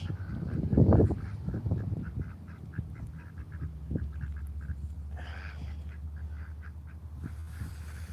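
Ducks on a small poultry farm quack in short, repeated calls, a louder cluster near the start then steadier scattered quacks over a constant low background hum.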